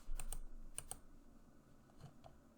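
Quiet keystrokes clatter on a computer keyboard, a quick cluster of taps at the start followed by a few sparser, fainter presses, close and without talk.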